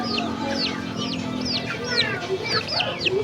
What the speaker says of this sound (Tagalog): Anad kay niya mo ang mga kalapati dire,